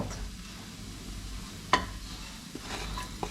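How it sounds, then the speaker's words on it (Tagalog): Finely chopped ginger goes into a hot pan and sizzles steadily, with a sharp clink of the pan or utensil and a bit of stirring partway through, and no talking. "Lagyan na natin yung ginger. Chopped ginger, finely chopped."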